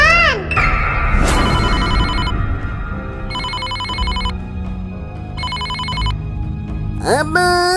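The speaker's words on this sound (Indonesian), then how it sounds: "Aduh, si Angel ngapain sih telpon malam-malam?" A phone rings inside the Sakura School Simulator game, sounding as repeated bursts of an electronic ringtone with a steady rhythm. Music plays underneath, and a short rising chime comes near the end.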